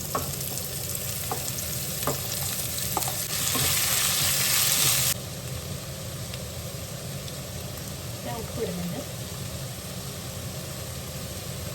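Thinly sliced onions frying with browned coconut in a pan, a continuous sizzle with spoon stirring and scraping, including a louder burst of hiss midway, close and steady with no voice.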